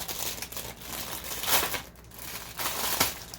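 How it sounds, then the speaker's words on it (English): Close, continuous crinkling of plastic packaging around cookie cutters, with louder rustling bursts as it is handled. "I'm sorry for the crinkly noise."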